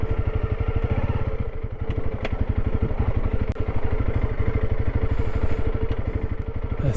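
A motorcycle ridden over rough terrain on a challenging adventure route in Argentina: a loud, close engine chugs in rapid, steady pulses with bits of clatter, continuous throughout and without talk.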